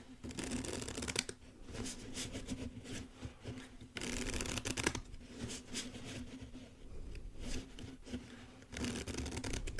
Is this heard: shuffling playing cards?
yes